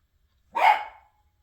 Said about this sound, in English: That was my chihuahua protecting me from the wind.